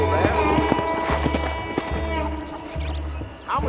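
Horse hooves clip-clopping on a ranch in the Red Dead Redemption video game: a quick, even run of close hoofbeats under a low steady hum, with faint game sounds around them.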